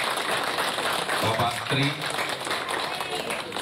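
An audience at an event honoring the Bekasi city mayor claps in a steady, dense wash of applause, with a speaker talking over it through the middle.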